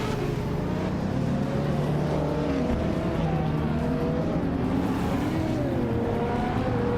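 Race cars speeding around the Rio de Janeiro Coast Loop in a video game, among them a classic 1966 BMW Isetta 300, a loud continuous engine roar with rising and falling revs and no break.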